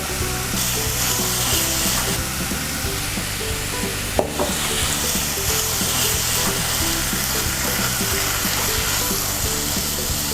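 Minced meat stir-fries with sugar and salt in a hot pan, a loud, continuous close sizzle with one sharp clack of the utensil partway through.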